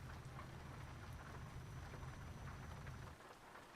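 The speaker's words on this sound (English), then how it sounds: "It is yucky rainy weather and rain." Steady, dense rainfall in the video game Euro Truck Simulator 2 hisses across the whole clip over a low rumbling drone, continuous and even, easing slightly near the end.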